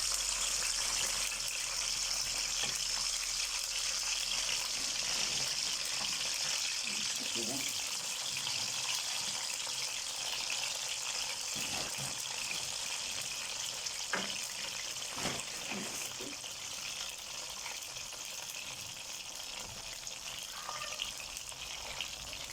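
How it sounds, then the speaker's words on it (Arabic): Frozen half-fried potatoes sizzle and hiss steadily in hot oil, a dense, continuous crackling that fills the whole stretch with only faint bumps and clinks underneath. "هنحمر بطاطس الاكله دي كده"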